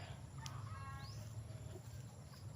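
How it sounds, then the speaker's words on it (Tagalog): Chickens around a rural home give a few faint, distant clucks over a steady background hum, brief and soft with no talk. "Nga may manok, oh."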